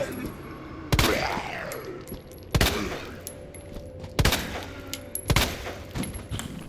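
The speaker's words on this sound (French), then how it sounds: "je vais utiliser des balles de pistolet" Pistol gunshots in the video game Resident Evil 2, four sharp loud reports spaced about a second apart, each trailing into a rumbling echo amid faint game ambience.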